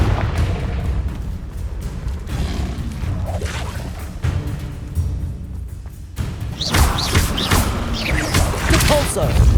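Confringo blasting curse explosions in the Hogwarts Legacy video game, a string of loud booms and crashing thuds with whooshing bursts that grow denser and sharper toward the end, over steady battle noise.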